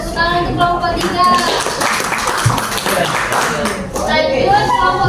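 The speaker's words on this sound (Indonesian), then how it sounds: "Tepuk tangan untuk kelompok 3" Students clap for a presenting group in a classroom at an Indonesian Islamic secondary school, a brisk run of handclaps that continues under voices talking and calling out throughout.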